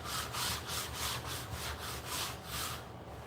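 A Cricut scraper is worked back and forth over a dirty heat press plate, scraping off gunk in steady, rhythmic rasping strokes, close and moderately loud, with no voices.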